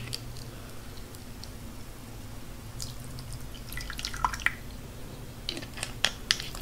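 Dipping sauce, a cham-style dip, is poured out at a mukbang meal, giving soft, wet drips and squishy splats that grow busier toward the end, close and quiet with no talking.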